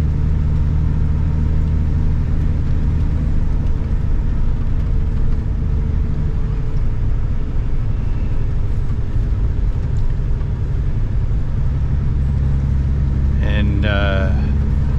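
Car driving along a road, heard from inside as a constant low engine and road rumble, loud and unbroken, with a brief higher squeak near the end.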